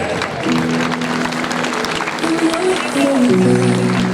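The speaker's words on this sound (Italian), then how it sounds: "mentre facciamo l'ultimo applauso anche per la contrada di Naunine" A crowd at a palio parade keeps up steady applause for the Naunine contrada, while a voice talks over the clapping and a sustained musical drone plays beneath it.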